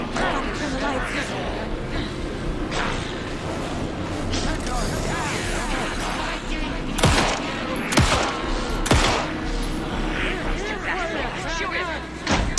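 Video game gunfire crackles in dense bursts and volleys amid a chaotic battle mix of thuds and effects, with excited voices and babble running throughout.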